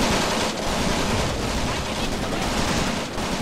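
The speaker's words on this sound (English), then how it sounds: "You can see all these guys moving up with their MG42s. Men are firing." MG42 machine guns firing in the war strategy game Graviteam Tactics, dense continuous rattling fusillade filling the whole stretch at high volume, with no pauses between bursts.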